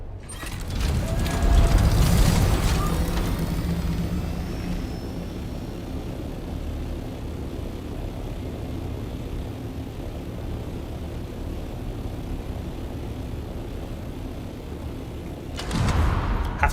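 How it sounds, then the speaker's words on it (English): An ornithopter in the video game Dune Awakening flies with a steady mechanical whirring and flapping drone, louder at the start and swelling again at the end, with a faint voice in the background. "I love the way the ornithopter flies."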